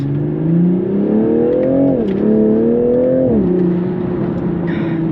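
Rear-wheel-drive sports car with a DCT gearbox pulling hard from the cabin, engine drone climbing steadily, dipping at quick gear shifts and then settling into a steady cruise, with no one talking.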